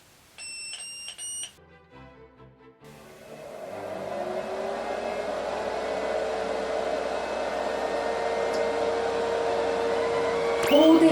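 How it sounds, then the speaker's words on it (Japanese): Cooling fan of a Hitec X2 AC Plus multi-channel battery charger running while discharging, a steady whirring hum that swells and grows louder, preceded by short electronic beeps from the unit. "放電時はさすがにファンの音が大きいですね。"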